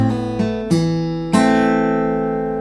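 Acoustic guitar notes plucked close up in Travis picking style, a bass note followed by strings two and three struck together and left ringing out, with no talking.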